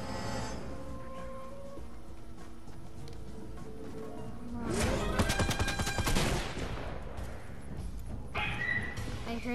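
Burst of gunfire from the Fortnite video game erupts midway through, a dense volley of rapid shots over background game music and effects, loud and close.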